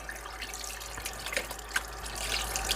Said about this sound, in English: we're going to get these rinsed out really nice